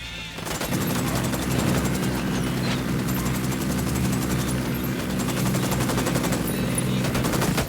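Helicopter rotors throb steadily beneath dense, rapid machine-gun bursts in the Ghost Recon video game, with loud, continuous gunfire filling the scene from start to finish.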